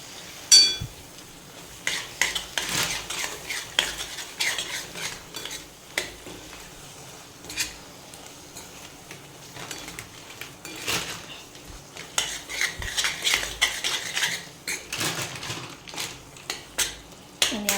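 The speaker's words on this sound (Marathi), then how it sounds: "आणि आता याला छान मिक्स करून घेणार." Salted methi amba (fenugreek and mango mixture) being stirred and mixed in a metal pan, with repeated clinks and scrapes of a spoon against the pan in an irregular, close-up rhythm and a faint sizzle underneath.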